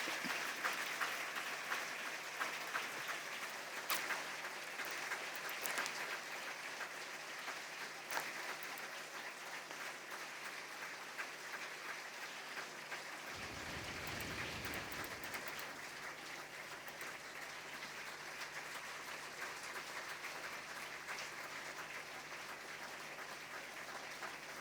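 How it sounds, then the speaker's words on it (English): Sustained audience applause at a symposium, a dense, even wash of many hands clapping that holds steady for the whole stretch without talk. "This round of applause will carry him to"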